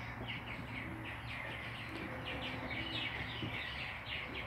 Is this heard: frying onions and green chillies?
no